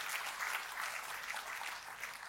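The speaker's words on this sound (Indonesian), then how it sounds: "Jadi kita kasih tepuk tangan yang paling meriah buat Tuhan." A church congregation applauds in praise during a service, a steady, dense wash of many hands clapping throughout with a faint crowd murmur beneath.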